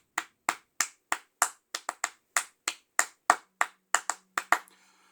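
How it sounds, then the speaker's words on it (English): Sharp, close hand claps ring out alone in a quick, slightly uneven rhythm, about fifteen in a row, as a game show theme intro. "the clapping"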